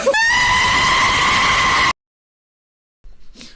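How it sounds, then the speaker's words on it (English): A loud, shrill animal scream with a strained, harmonic cry lasts under two seconds and cuts off abruptly, followed by silence and a brief muffled noise. "I love the screaming chicken at the end for just no reason."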